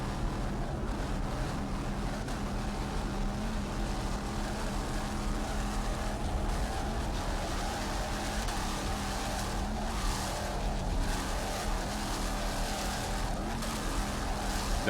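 A Mercury-powered 38-foot Skater race powerboat throttles hard during an offshore race, a loud steady engine roar with a constant broadband rush of water and wind that barely varies, no talk over it.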